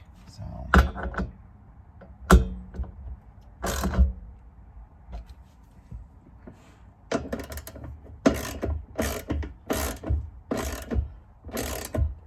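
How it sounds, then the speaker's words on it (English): Ratchet clicking in short bursts while bolts are tightened on a rear pocket molle panel inside a Toyota Land Cruiser 250, sparse at first and then a denser run of clicks and clunks, recorded close. "now we're going to tighten the rest of this up"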